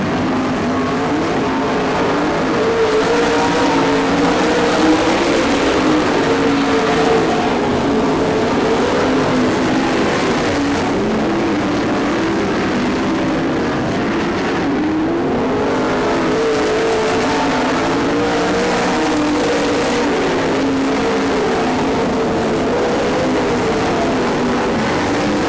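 Race cars roar around a short track in a continuous loud engine drone, with revs rising and falling as the pack laps past, no talk over it.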